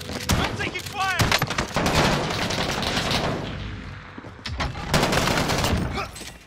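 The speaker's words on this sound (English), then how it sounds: "I'm taking fire." Sustained gunfire in the video game Call of Duty: Modern Warfare on Birth Island, dense overlapping bursts and shots, loud and close, with a brief lull midway before another heavy volley.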